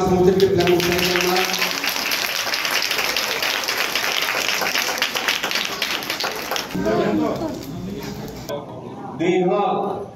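An audience claps in a sustained burst of applause at a clothing distribution event held by Samir Divyang Trust at Bapuji special school in Bargarh, with speech before and after the clapping.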